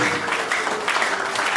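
Wedding guests clap in a civil marriage ceremony at Moungali town hall in Brazzaville, a short steady patter of applause filling the room at moderate volume, with faint voices mixed in.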